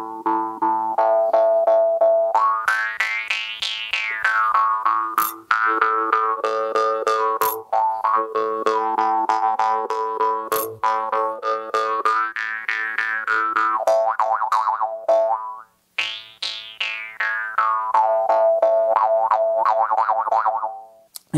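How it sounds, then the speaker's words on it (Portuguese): A jaw harp's vibrating metal rod resonates in the player's mouth, giving a loud, continuous twanging drone whose overtones sweep up and down in wah-like arcs as the mouth cavity shifts, with a few sharp plucks. "eu adequo a cavidade da minha boca à ressonância de algum dos harmônicos que tem nessa haste que vibra"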